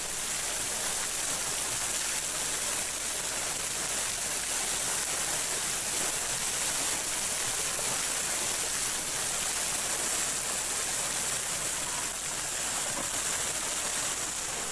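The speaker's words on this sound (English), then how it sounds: "I do like the water feature." A garden water feature at Alnwick Gardens flows without a break, a loud, even wash of splashing water with no voices over it.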